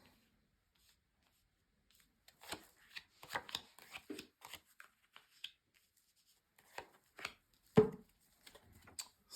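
Tarot cards laid down one by one on a table during a card reading, giving sparse, quiet slaps and soft rubbing taps in irregular bursts, with one sharper close snap near the end and no talking.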